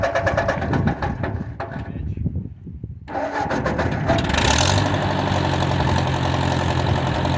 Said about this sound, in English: It helps when you turn the ignition switch on, guys, when you go to start your rigs.